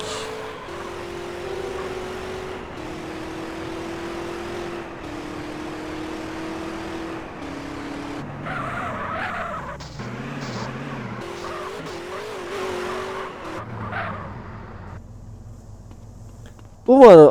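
Car engine droning steadily while driving in GTA San Andreas, with pitch shifts and a brief skid-like squeal near the end, under game background sounds and some speech.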